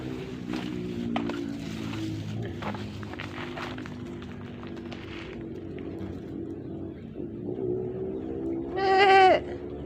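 Goats on a farm, with one loud, close bleat near the end over a steady low engine-like hum and scattered background knocks.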